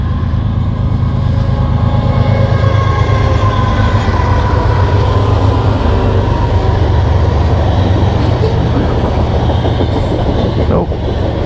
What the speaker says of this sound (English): and that's a coal train too.